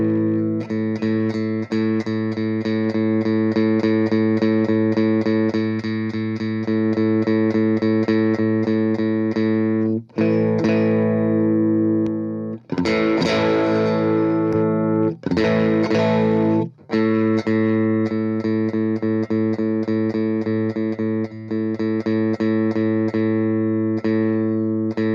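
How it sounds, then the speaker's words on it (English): A distorted electric guitar through an amp, with 500 Hz heavily boosted on an Eno EX EQ7 pedal, rings out with a harsh, boxy midrange honk, sustained chords broken by a few short pauses and choppy strums midway. "I'm going to overemphasize a frequency in order to highlight the things that to me kind of sound a little gross"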